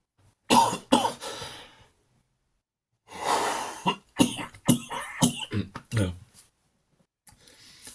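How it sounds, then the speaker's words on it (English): Several harsh, close coughs come in bursts separated by short pauses, with throat-clearing and heavy breathing between them. "Nice little cough there."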